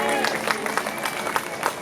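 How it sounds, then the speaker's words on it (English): Audience applause at a live bluegrass festival, a steady wash of clapping from a crowd with scattered louder claps and voices mixed in. "A round of applause for Dan running sound"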